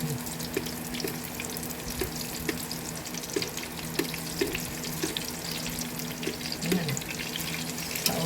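Eggplant and dried fish frying in a pan give a steady sizzle with faint scraping and clinking, heard alone with no talk.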